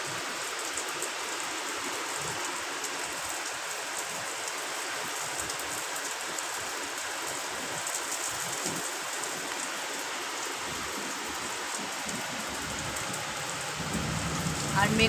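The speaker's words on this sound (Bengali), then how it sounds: "আর বৃষ্টির আওয়াজ শুনে তোমরা বুঝতেই পারছো কিরকম জোরে বৃষ্টি নেমে গেছে।" Heavy rain pours steadily during a Kalbaishakhi storm, a dense continuous hiss of drops hitting surfaces nearby, loud and unbroken throughout, with no voices over it and a slight swell near the end.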